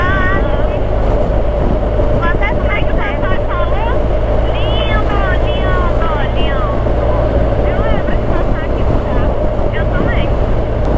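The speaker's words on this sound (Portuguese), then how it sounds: "Nada se compara a andar de moto" A motorcycle rides along a road with a steady, loud engine drone and heavy wind rush throughout, while people talk over it.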